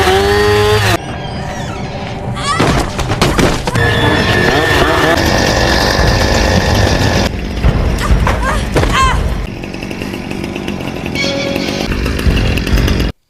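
A chainsaw wielded by an attacker chasing a fleeing woman revs loudly and continuously, its harsh engine whine rising and falling in bursts over busy, dense background sound and music.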